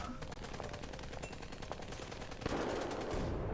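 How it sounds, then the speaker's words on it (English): Rapid bursts of video game gunfire rattle continuously, then a heavy bomb boom erupts near the end and rumbles on, like explosions in a battle. "It's bombs and gunshots."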